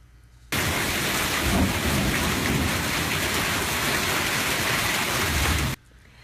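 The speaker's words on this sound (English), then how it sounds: "storms dumping half a foot of rain on Mobile, Alabama" Heavy rainstorm pouring down on a flooded neighborhood in Mobile, Alabama, a dense, steady roar of rain with rumbling thunder underneath, loud and continuous, beginning abruptly and cutting off near the end.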